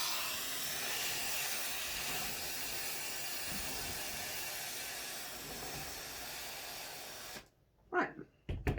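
A steamer hisses steadily at close range over hat veiling for about seven seconds, then cuts off, leaving a few faint handling noises.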